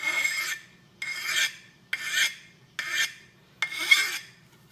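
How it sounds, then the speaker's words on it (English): A hand file rasps back and forth across the burr on an axe edge while a secondary bevel is sharpened: five even strokes in a steady rhythm with short pauses between them, close and clear. "So now I'm just simply going to work that burr back and forth with my file."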